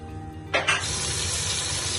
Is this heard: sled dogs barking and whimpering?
no